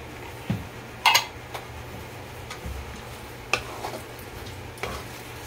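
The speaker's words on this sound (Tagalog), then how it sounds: "Haluan po natin ng ito guys." Biko, Filipino sticky rice cake, being stirred in a pan: a few sparse scraping and tapping knocks of a spoon against the pan over a soft steady sizzle, with no talk.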